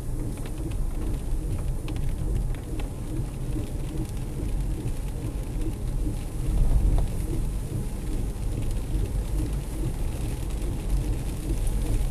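Steady rain pours over city streets at night with low rumbling that may be distant thunder, a broad continuous wash with a brief swell partway through and no talking.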